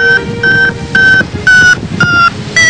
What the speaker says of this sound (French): Le petit bip bip qu'on entend, c'est quand ça monte.